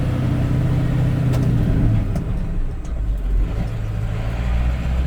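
A Ford Super Duty OBS Powerstroke diesel truck pulls away in first gear, a loud steady low engine rumble with a slight shift in tone partway through, heard from inside the cab.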